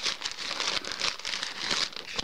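Plastic packaging bag from a parcel holding a men's down jacket crinkles and rustles steadily as it is unwrapped, close and continuous with crisp bursts throughout.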